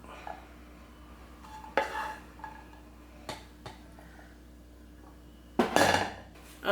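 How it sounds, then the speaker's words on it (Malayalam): A spoon serves beetroot and chickpea thoran onto rice, with a few sharp metallic clinks and scrapes against a plate or pot over a quiet background, the loudest cluster coming near the end. "ഇനി ഇതിലേക്ക് ഞാൻ ബീറ്റ്റൂട്ടും കടലും കൂടിയുള്ള തോരനുണ്ടല്ലോ, അതാണ് ഇട്ട് കൊടുക്കുന്നത്."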